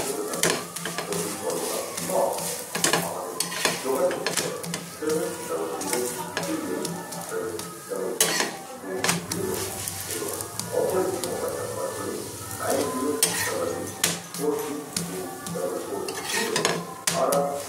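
Rotis frying in a pan for chicken rolls, a steady sizzle with intermittent stirring and clinks of utensils against the pan, close and fairly loud throughout.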